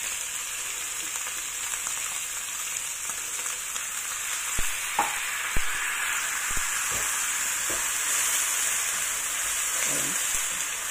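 King oyster mushrooms sizzle in a pan after water is added, a steady hissing fry punctuated by several clacks of stirring utensils and no talking.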